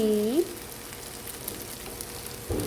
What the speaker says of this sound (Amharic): በጣጥስ ሲጠበስ እናደርጋለን።